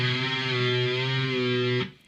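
A distorted electric guitar riff holds one sustained, saturated note for nearly two seconds before cutting off abruptly, loud and alone.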